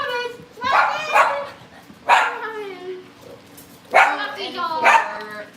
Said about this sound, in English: We're gonna play with puppies.